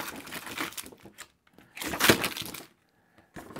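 Paprika chips are poured out of a bag in a few bursts of crinkly, crunchy rattling, the loudest near the middle, separated by short quiet gaps.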